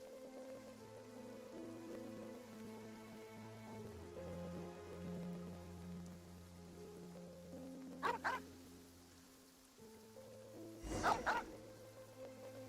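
A dog in Genshin Impact barks twice, in two short bursts several seconds apart, over quiet game music and ambient rain-like background.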